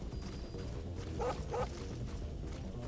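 A dog in Metal Gear Solid 5: The Phantom Pain lets out two quick barks close by, standing out over a dense rumbling game background.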